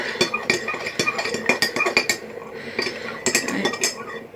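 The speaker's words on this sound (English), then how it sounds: "Let me just stir this." A spoon stirs strawberry Nesquik milk in a glass, rapid clinking taps against the sides in quick bursts, close and clear with a short pause midway.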